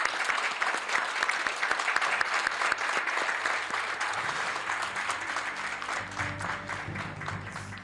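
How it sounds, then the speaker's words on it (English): A debate audience in a council chamber applauds the candidates, a dense burst of clapping from many hands that holds steady before slowly thinning out, with a low murmur entering toward the end. "I'll invite the audience to give them a round of applause for all of our candidates."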